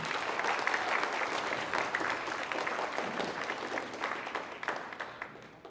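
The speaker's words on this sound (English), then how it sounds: "Let's give them a big round of applause for their dedication." An audience at an FTC robotics award ceremony breaks into sustained applause for the judges: dense, even clapping from many hands that holds steady, then thins slightly toward the end.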